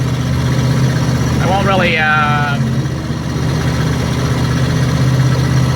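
An RV engine drones steadily while driving through city traffic, a loud constant low rumble inside the cab, with someone talking briefly over it.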